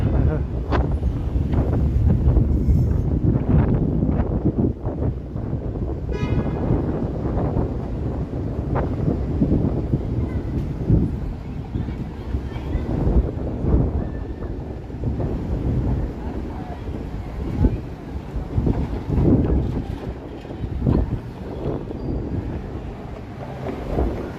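Strong, sustained wind gusting outdoors in downtown Toronto on an evening street, roaring into the microphone throughout, with people talking intermittently underneath.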